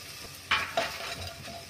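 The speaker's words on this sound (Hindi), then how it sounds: "अच्छे से चला लेंगे" Potato mixture seasoned with red chilli powder is stirred in a pan, giving two sharp scraping strokes followed by a soft ongoing sizzle, close and fairly quiet with no talk.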